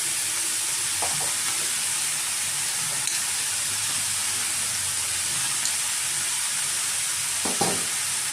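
Boiled noodles stir-fry in a hot pan for chicken chow mein, a steady loud sizzling hiss with a few soft scrapes and clinks, close and with no one talking.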